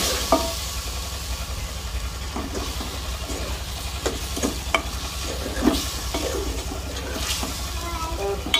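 Mutton liver fries with salt and turmeric in a pan, with a steady sizzle, occasional stirring clicks and scrapes, and a low hum underneath.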